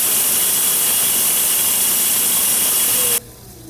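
A rock saw cuts through an Agua Nueva vein agate, giving a loud, steady hissing whine that runs evenly and then stops abruptly, leaving a quiet low hum.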